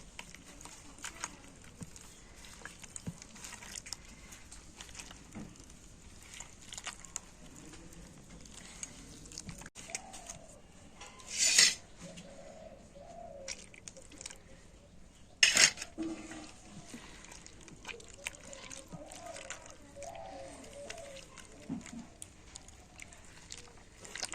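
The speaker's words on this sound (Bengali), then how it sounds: "তো এইভাবে গোলা গুলে নিলে তবে কিন্তু চিতই পিঠের গোলাটা একেবারে পারফেক্ট হবে" Rice flour batter for chitoi pitha being mixed by hand in a bowl with hot water, giving a steady soft wet patter and stirring, with two brief sharp clinks of utensils against a pot.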